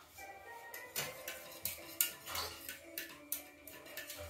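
A utensil knocks in quick repeated clinks against a bowl as pancake batter is mixed with melted butter, faint and close.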